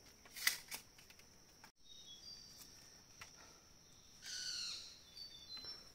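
Faint bird calls in a forest during a hunt: a few short, thin chirps and a longer whistled call stand out against a quiet insect hum, distant and sparse.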